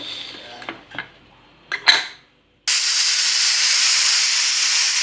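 A few clanks of a pot, then a pause, followed by a loud, sustained steam whistle hissing continuously from a pressure cooker cooking sabudana khichdi.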